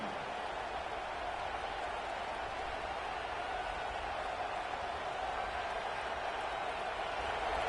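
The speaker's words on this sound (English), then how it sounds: "the crowd coming to life here, trying to help this defense down in the red zone" Football stadium crowd roaring to back the defense in the red zone, a dense, steady wall of distant cheering and noise with no breaks.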